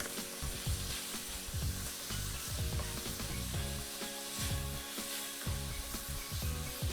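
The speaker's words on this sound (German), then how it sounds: "jetzt können wir schon das Hackfleisch dazugeben. Lassen das jetzt einmal wirklich schön anbraten" Steady sizzling of minced meat frying in a pan for ragù, with occasional scraping and stirring sounds throughout.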